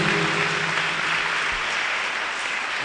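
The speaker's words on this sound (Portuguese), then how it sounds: "Palmas para o Senhor Jesus." Church congregation at a testimony service claps steadily and loudly for a few seconds, a dense sustained burst of applause with no talk over it.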